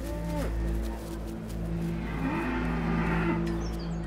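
Stressed cows low in a crowded show ring, the moos rising over a steady din of crowd and ambient noise, with a faint engine-like drone underneath.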